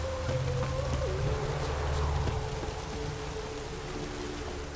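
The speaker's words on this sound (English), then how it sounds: "Rains like this come sowing time." Steady rain falls in The Witcher 3, a dense, even hiss that holds at one level throughout with no voices over it, while a low sustained tone runs underneath.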